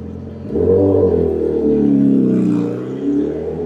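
A Yamaha R1 motorcycle passes nearby on the road, its engine loud and revving up then holding a strong, rising drone for a few seconds before easing slightly.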